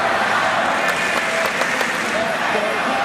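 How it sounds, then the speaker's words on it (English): A crowd at a college wrestling match between Oklahoma State and Arizona State cheers and applauds loudly and steadily throughout, a dense roar in a large arena, with a commentator talking over it. "The crowd's cheering."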